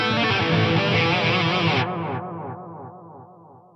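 A guitar note passes through an Eventide delay pedal whose filter is set to mimic an analog delay, producing a loud, darkening tail of repeats. The echoes lose brightness step by step as they fade, with no talking.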